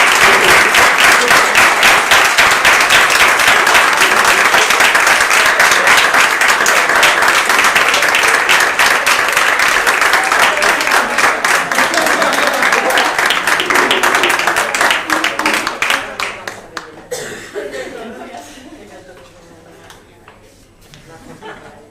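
A debate tournament audience in Madrid breaks into loud sustained applause for the winning university team, a thick wall of clapping that holds for about fifteen seconds before thinning out, after which a voice speaks quietly.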